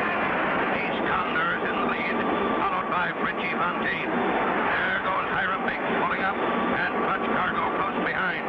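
Cartoon jet planes lined up for the start of an international air race, a dense continuous roar of engines and whooshing that stays loud from start to finish.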